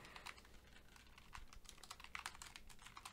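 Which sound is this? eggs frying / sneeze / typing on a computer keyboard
typing on a computer keyboard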